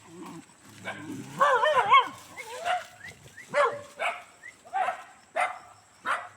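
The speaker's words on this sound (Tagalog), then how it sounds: "Naku, sinalubong tayo ng aso." A dog barks repeatedly at close range in short, uneven bursts, with some whining calls mixed in and brief voices nearby.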